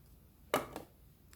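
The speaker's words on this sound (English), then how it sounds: "trim your bottom threads." Scissors trim loose threads close to the fabric on a machine-sewn festive corn decoration. Two quick, crisp snips sound up close, and the room is otherwise quiet.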